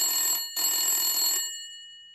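An old-style bell telephone rings in a Chacha Chaudhary cartoon, two bright metallic bursts in quick succession with a brief gap, then a short fading tail.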